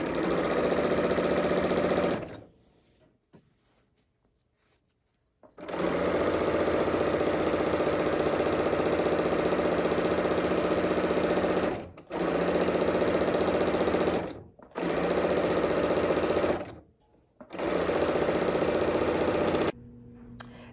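A BERNINA L 890 sewing machine stitches a shoelace in loud, steady runs of rapid needle chatter, broken by short pauses and several brief stops, with no talking.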